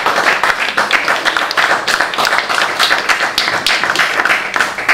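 Audience at an evening talk on social justice applauding firmly, dense continuous clapping that stays loud and close for several seconds, with no voices over it.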